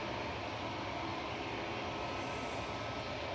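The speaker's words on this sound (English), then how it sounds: "This is a 777 freighter." A Boeing 777 freighter on a flight from Dubai World Centre roars at Manchester Airport, its jet engines giving a steady, loud, broadband rumble that holds evenly throughout with no voices.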